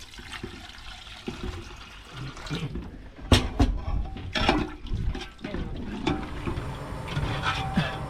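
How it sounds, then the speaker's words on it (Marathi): Water is poured in bursts into a pan of cooking masala on a boat at sea, splashing and sizzling as it hits the hot mixture, with some clattering in between. "थोडा थोडा पाणी घालून याचा रस्सा बनवू"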